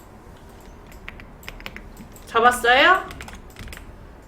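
Faint computer keyboard typing during a spreadsheet lesson, a few scattered light clicks as text is deleted with backspace, heard beneath a brief spoken question.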